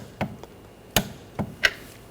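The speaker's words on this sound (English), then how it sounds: "we'll torque that to 51 foot-pounds" A torque wrench tightening a rear sway bar link on a 2013-2019 Ford Escape: four sharp, close metallic clicks spaced unevenly over about two seconds, with quiet gaps between them.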